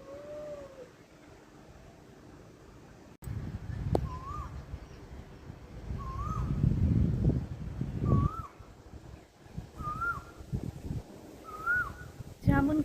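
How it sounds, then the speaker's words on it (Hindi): An Asian koel calls repeatedly from a jamun tree before rain, rising whistled notes every couple of seconds over rustling, thumping background noise and murmuring voices. "देखो गाइस, कोयल बोल रही है"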